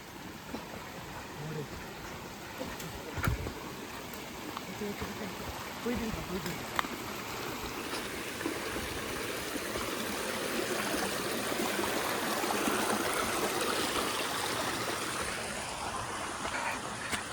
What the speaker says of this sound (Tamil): போகிற வழியில் இங்கேயும் நிறைய ஓடைகள் இருக்குது